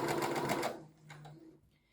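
A sewing machine stitching over a very thick seam on a gilet: a rapid, loud, close mechanical whirr for under a second, then slower, fainter single stitches as it winds down.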